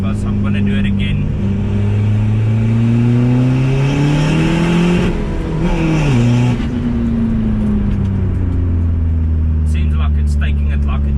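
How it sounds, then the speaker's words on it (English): A car engine, either a Volkswagen Polo or a Honda Civic EK, climbing in pitch as it revs hard up toward the rev limiter and then easing back down, loud and close with a voice talking over it. "So it pulled to the limiter, it did not spin into the limiter"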